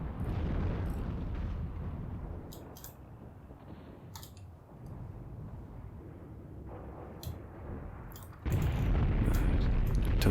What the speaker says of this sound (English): Artillery still landing around the barn